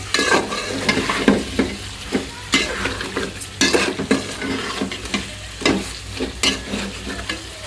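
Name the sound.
sautéing fish head and tail with spices in pan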